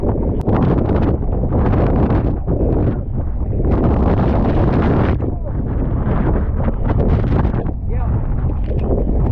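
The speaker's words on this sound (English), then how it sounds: "The only way to get a break from the wind on the top floor of the parking garage was ducking behind the walls." Hurricane Ian's wind roars and buffets across the open top floor of a parking garage in Punta Gorda, Florida, as loud, constant gusting noise battering the microphone and surging and dipping throughout.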